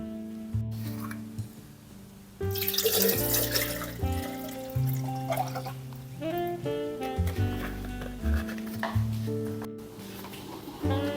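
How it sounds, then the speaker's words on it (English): Water running from a tap into a kettle while brewing coffee, a steady rushing pour whose pitch shifts as the kettle fills, close and continuous under faint background tones. "I forgot to put water in the kettle"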